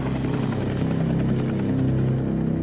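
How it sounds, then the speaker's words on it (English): A helicopter drones steadily overhead with a continuous rotor throb, moderately loud and unbroken, with no voices over it. "The helicopter circles for 20 minutes, then disappears as suddenly as it arrived."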